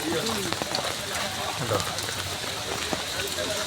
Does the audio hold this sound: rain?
yes